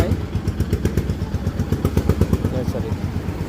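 A Yamaha FZS V2 motorcycle engine runs close by with a steady rapid pulsing throb, short regular bursts through the whole stretch, loud and rough.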